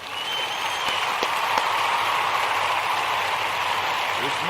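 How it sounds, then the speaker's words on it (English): A round of applause from a crowd of young children at a Kujichagulia celebration, broad steady clapping that holds loud and even for several seconds without talk. "I want to give all of the Kujichagulia babies a round of"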